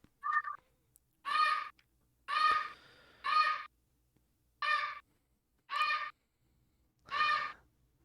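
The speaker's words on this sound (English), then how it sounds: "I hear a bird." A bird calling in the distance as a tabletop game sound effect: seven evenly spaced harsh, raspy caws, each about a third of a second, standing alone over near silence.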